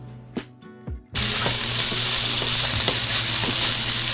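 Arctic char frying in a pan bursts into a loud, continuous sizzle after a few quieter clinks, the sputtering hiss running steadily with faint crackles to the end.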